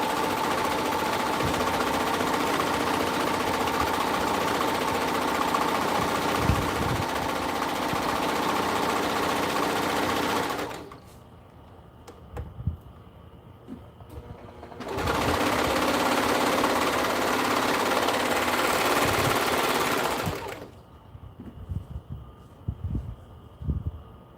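A louder-than-usual sewing machine runs in steady whirring bursts of about ten seconds each, stopping between runs, while light handling clatter fills the quieter gaps.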